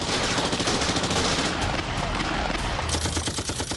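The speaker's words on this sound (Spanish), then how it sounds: "Había tiros tanto fuera de la residencia como dentro" Rapid bursts of gunfire crackle almost nonstop, dense and loud, like automatic weapons firing close by both outside and inside the Japanese embassy residence during the siege, with faint shouting beneath.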